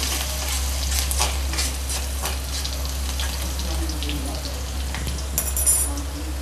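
Garlic sizzling in hot oil tempered with cumin and mustard seeds for a Marathi brinjal dish, a steady close crackle and hiss with occasional stirring scrapes, no voices.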